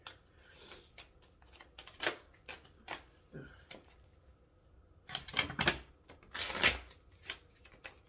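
Tarot cards are shuffled nearby in quick riffling bursts and soft slaps, irregular and fairly quiet, with a few louder flurries.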